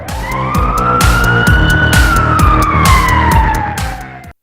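A loud, close electronic police siren from a toy police car wails steadily with a rising and falling tone, with a tinny toy-like quality over a rapid pulsing beat.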